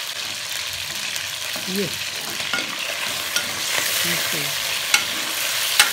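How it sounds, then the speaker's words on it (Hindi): Garlic and chicken frying in a pan, a steady close sizzle with occasional stirring clicks and scrapes, and a voice speaking briefly over it. "इसको हमने फ्राई कर लेना अच्छे तरह से"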